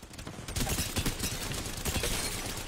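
Rapid bursts of automatic gunfire ring out in the video game Apex Legends, a loud, dense stream of close shots after a brief quieter start, with no talk.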